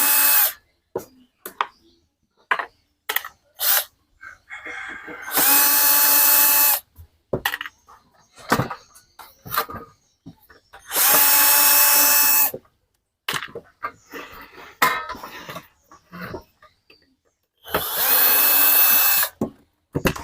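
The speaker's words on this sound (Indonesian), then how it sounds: "di sini terdapat beberapa baut ya, dan kita lepas dulu untuk baut-bautnya ya" Power drill loosening bolts on a Piro MW88 swiftlet sound amplifier casing, loud whirring bursts of a second or so separated by quieter clicks and handling noise, close by.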